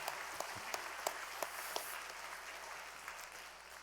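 Middle and high school students at a Korean church evening worship service give a brief round of applause, a few distinct claps standing out over a soft, roomy wash that fades toward the end.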